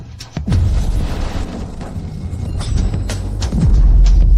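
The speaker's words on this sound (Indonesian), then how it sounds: "monitor medan magnet semuanya meledak" Magnetic field monitors explode in a xianxia fantasy scene, heard as a run of deep booms and rumbling bursts. The blasts are close and loud, and they build heavier toward the end.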